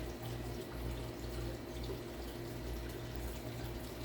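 Water from a tap runs steadily while things are rinsed out beside a worm bin, giving a faint, continuous splashing trickle with no voices.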